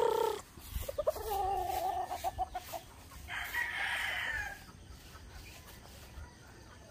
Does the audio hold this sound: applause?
no